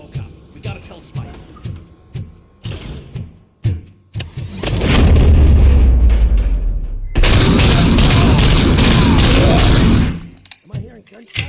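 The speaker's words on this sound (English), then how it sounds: "Am I hearing gunshots?" Bursts of heavy, continuous gunfire and explosions in the game RoboCop: Rogue City fill the middle of the clip, loud and sustained, with speech and scattered thuds before and after.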